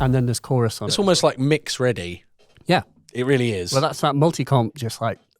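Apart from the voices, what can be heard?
None of the usual background noises is heard.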